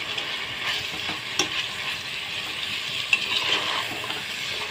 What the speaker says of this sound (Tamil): நல்லா ஒரு பத்து நிமிஷம் மசாலாவோட சேர்த்து நல்லா வதங்கணும்